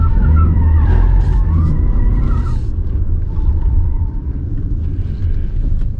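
Toyota RAV4 Prime driven hard, with a loud continuous tire skid and squeal over heavy low engine and road rumble, sustained throughout and easing slightly toward the end.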